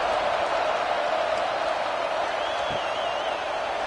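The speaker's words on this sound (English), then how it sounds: "this crowd is buzzing after that last score" A CFL football stadium crowd at a Montreal Alouettes at Winnipeg Blue Bombers game keeps up a steady, broad roaring buzz after a score, distant and continuous without clear breaks.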